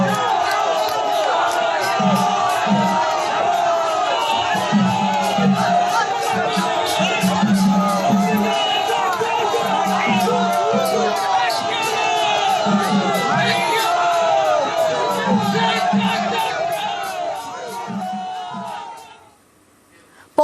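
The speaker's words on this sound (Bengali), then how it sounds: "শুভেন্দু অধিকারীর মিছিল যাওয়ার সময় পদ্মকর্মীদের স্লোগান।" BJP supporters chant slogans during Suvendu Adhikari's election campaign procession in Nandigram, a loud crowd roar with rhythmic group shouts and whistles that continues steadily before dropping away at the end.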